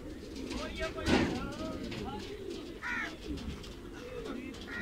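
Pigeons cooing at a town square where about 150 birds gather, their soft repeated coos running under steady outdoor noise and nearby voices.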